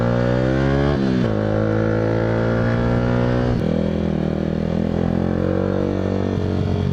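A Yamaha R125 motorcycle with an aftermarket exhaust idling and revving close by, the engine note rising and falling loudly with irregular crackles and pops, no talking over it.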